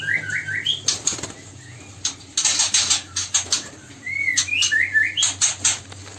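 Four month-old songbird chicks move about a simple breeding cage, giving rapid wing flutters and scrabbling bursts alongside thin rising chirps and cheeps, close and moderately loud, with quieter gaps between the bouts.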